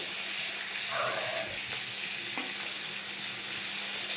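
Fish frying in hot oil in a home kitchen, a steady broadband sizzle and hiss running continuously and close, with a couple of faint clinks partway through.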